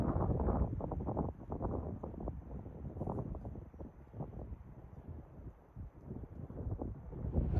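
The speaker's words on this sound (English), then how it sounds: "It's also kind of windy up there." Steady low, rumbling wind buffets the microphone throughout, high up near the Grand Canyon, with gusty swells and dips, loud and close, with no voices.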